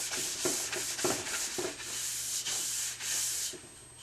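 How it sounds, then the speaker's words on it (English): A polishing brush scrubs back and forth across an alpine ski or snowboard base being prepared for fluorocarbon wax. The bristles make a steady rhythmic hiss, close and fairly quiet, with about seven strokes and no talking. "take a polishing brush dedicated for fluorocarbons, and you can scrub back and forth"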